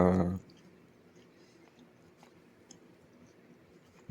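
A protein bar is chewed softly and close up with faint, moist squishing and small clicks after a brief loud burst at the start, quiet and intimate throughout.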